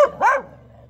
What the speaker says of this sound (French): Elle a beau aboyer, hein,